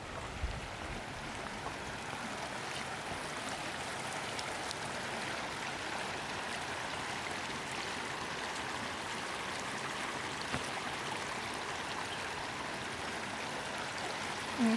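Stream water rushing steadily in a creek in Sula, Montana, as people and dogs wade across, a continuous near wash with no talk.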